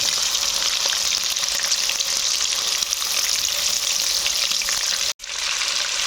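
Prawns fry lightly in hot oil, a loud, close, continuous sizzle that holds steady throughout and cuts out for an instant near the end before resuming.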